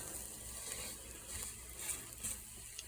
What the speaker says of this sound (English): now you really have to mix this because you don't want it to burn